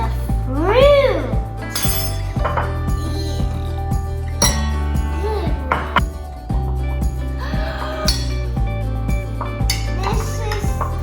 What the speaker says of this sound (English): Stir it real good.